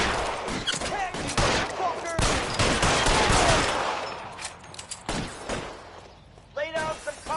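Dense gunfire in the video game L.A. Noire, with rapid overlapping shots and bursts loud and close at first, thinning to scattered single shots later, while voices shout over the shooting.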